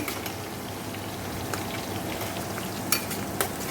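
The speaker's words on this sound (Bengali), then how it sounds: "গোটা গরম মশলা ফোড়ন দিয়েছি আর পেঁয়াজ ভাজছি" Onions frying in hot oil in a wok, with whole garam masala spices tempered for a mutton curry: a steady close sizzle and crackle throughout, with a few sharper pops, no voices.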